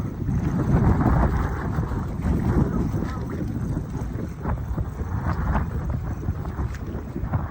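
Strong wind gusting across an open rice paddy during transplanting, a steady broadband roar with buffeting on the microphone, loud and continuous throughout with no clear talk.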